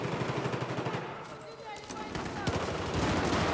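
Dense gunfire crackles continuously from several directions in the video game Battlefield 1, with bursts of automatic fire layered under a voice talking.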